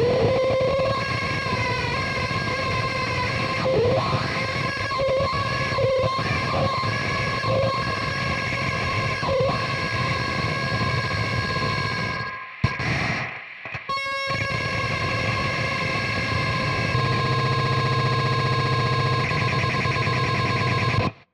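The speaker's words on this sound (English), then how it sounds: "I'll just go insanely hard with the wah pedal, with the harmonist, and with usually a reverb or a delay pedal" Dense, droning electric guitar noise through wah, Boss Harmonist and reverb or delay pedals, with swelling, sweeping textures and sustained layered tones, briefly cutting out before resuming as a thick continuous wash.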